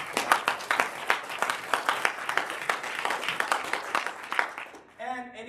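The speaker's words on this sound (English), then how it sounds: "Give them a round of applause." Applause from a standing audience at a sales-team event, dense and steady hand clapping for several seconds that fades out near the end.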